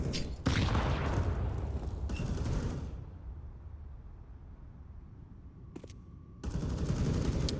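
Rifle fire from an AK in Counter-Strike on the Overpass map during a pro match: loud bursts of shots at the start, a lull with distant faint pops, then another loud burst near the end.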